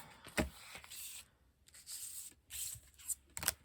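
An oracle card deck is shuffled in soft, papery swishes and rustles, coming in several short bursts separated by near-silent gaps. A sharper snap lands at the end.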